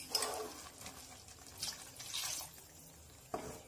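Thick first coconut milk poured into a pan of green peas kurma gives a soft liquid splash and trickle, fairly faint and close, with a brief sharper clink near the end.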